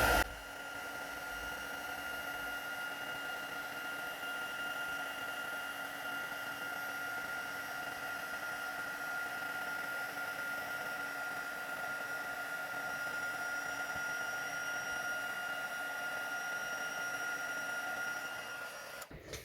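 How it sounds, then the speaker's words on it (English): A heat tool blows steadily to melt embossing powder on a card, with a constant whirring fan drone and a faint whine that runs unbroken for the whole stretch and then cuts off at the end. "So I'm just going to heat this up with my heat tool."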